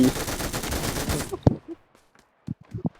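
Gunfire in the mobile battle royale game New State, a dense burst of rapid automatic shots for over a second, then a few scattered single sharp shots.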